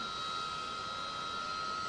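Jet engine in a flight simulator game spooling up, a steady whine with high tonal lines over broad roar, constant and moderately loud with no talk.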